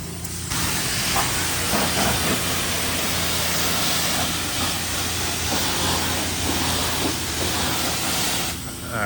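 A high-pressure sprayer at a car wash rinses a car, a steady loud hiss of spray lasting the whole stretch with a low rumbling undertone of equipment.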